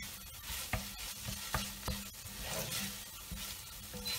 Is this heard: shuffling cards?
no